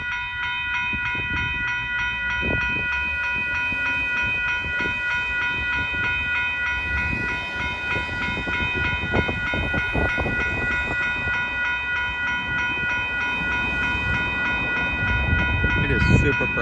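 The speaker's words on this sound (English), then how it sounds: "This appears to be westbound intermodal on track 2." A westbound intermodal freight train passes close by on track 2 at a rail crossing, giving a loud, sustained rumble with clattering wheels and a steady ringing crossing-bell tone throughout, and no talking over it.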